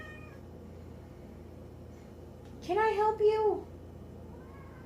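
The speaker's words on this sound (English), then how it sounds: "Cats." A cat meows twice near the mic, two clear, wavering meows close together, over quiet background and a brief spoken question in a kitchen.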